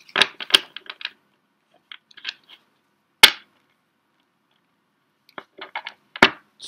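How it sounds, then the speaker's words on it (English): Tarot cards being shuffled by hand: bursts of quick riffling clicks in short clusters, with one sharp tap partway through and another flurry near the end, close and fairly clear with no talk. "I'm going to do a bit more shuffling"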